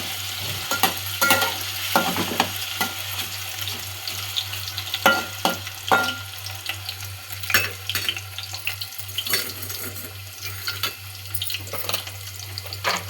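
Diced potato fries in a pan for a sabudana dish, with a steady sizzle and intermittent scraping stirs of a spatula over a constant low hum.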